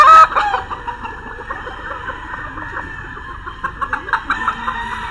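White Kelso gamecock on a Filipino farm clucking and calling, with a brief crow-like note at the start, close and moderately loud over a steady background drone.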